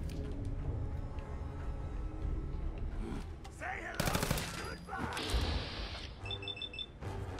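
Pistol shots in Fallout 4 ring out amid game combat noise, a few sharp loud cracks around the middle with chaotic effects and a beeping interface tone afterward.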